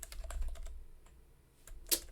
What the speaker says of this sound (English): Wait, was I typing printf wrong?